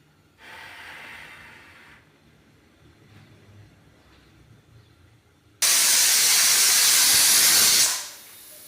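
A pressure cooker holding dal and vegetables lets off a soft hiss, then a loud, close roar of escaping steam that lasts a few seconds before cutting back.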